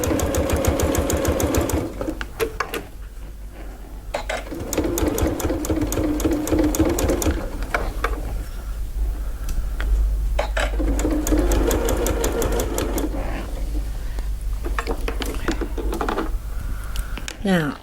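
A sewing machine stitches a fabric project bag edge to edge in steady rapid bursts, pausing briefly between runs, with a person talking over the whirring throughout.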